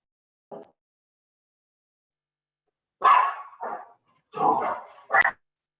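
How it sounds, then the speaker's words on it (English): Several dogs bark in short bursts during a small-town Board of Education special meeting roll call: one brief yip, then a cluster of louder, fairly close barks toward the end. "Those are her dogs."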